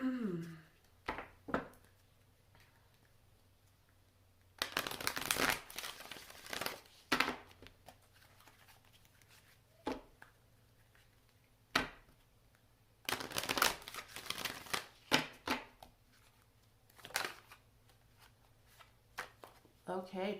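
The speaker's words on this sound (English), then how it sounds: "I'm going to pull another oracle card for that." A deck of oracle cards is shuffled and pulled in two bursts of papery riffling and slapping, with soft taps and card handling in between, and a person speaks throughout.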